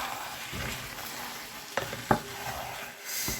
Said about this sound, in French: Je laisse d'abord que la viande puisse cuire avec la tomate et l'huile.